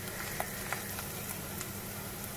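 Ginger and garlic simmer in oil in a pan, a soft steady sizzle with a few faint stirring clicks, heard alone and fairly quiet.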